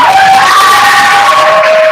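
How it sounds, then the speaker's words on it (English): Children at a primary school debate championship final cheer and shout loudly as the teams are introduced, a continuous, close crowd roar of young voices. "a round of applause"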